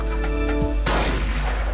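A single sharp gunshot in the video game Tactical Assassin 2, a loud crack that cuts abruptly over a steady tonal game hum and then trails into a brief noisy tail.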